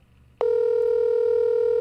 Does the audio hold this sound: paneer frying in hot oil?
no